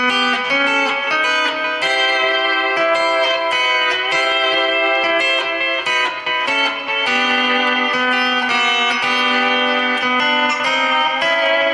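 A sustained, harmonically rich lap steel guitar line glides between pitches and shifts chords with smooth slides, played alone and filling the whole passage.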